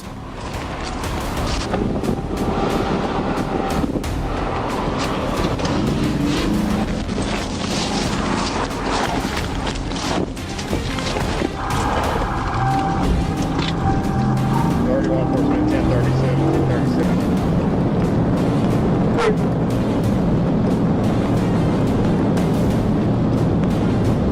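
Dashcam capture of a car accelerating hard in a high-speed police pursuit: a loud, continuous roar of engine and road noise throughout, with voices and scattered thumps mixed into the dense wash of sound.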